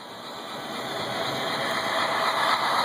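A toy train chugging around a loop track, a steady whirring motor hum with a rising, even texture, close and continuous, without voices.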